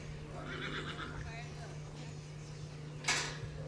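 A horse on a trail ride gives a fluttering whinny that rises and trails off, with a low steady hum underneath and a sharp knock near the end, while a person talks over it.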